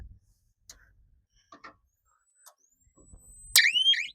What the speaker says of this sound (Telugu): ఈ విధంగా సౌండ్ వస్తుంది ఈ విధంగా సైరన్ వచ్చేప్పుడు